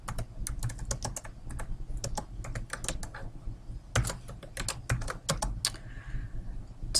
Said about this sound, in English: I am going to type it out so that I can see it on the screen at the same time